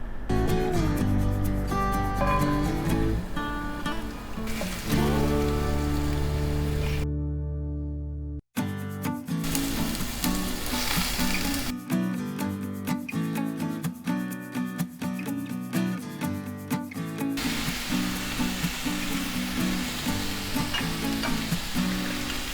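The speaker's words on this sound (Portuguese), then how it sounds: "Agora vamos saltear os legumes." Carrot and onion sizzle and fry in a hot pan for Korean japchae, a steady crackling hiss stirred now and then, with a brief break in the middle before the frying resumes.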